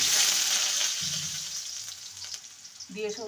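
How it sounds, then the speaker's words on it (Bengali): Potatoes sizzle in hot oil in a wok, a loud bright hiss that fades slightly, with brief low voice sounds near the end. "কড়াইতে তেল দিয়ে দিয়েছি। প্রথমে আলুগুলোকে ভেজে নেব।"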